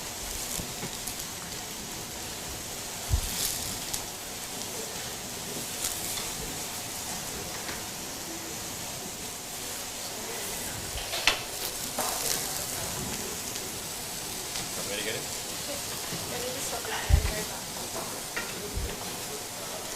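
Oiled eggplant slices sizzle steadily in a hot griddle pan, a continuous close crackling hiss with a few sharper pops and no talking.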